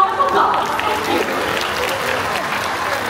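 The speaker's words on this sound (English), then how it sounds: "let us give Quincy and Amigo another round of applause" An audience at a bird show in Singapore's Mandai Bird Paradise claps, a burst of applause that swells at the start and then settles into steady, fairly close clapping while a presenter talks over it.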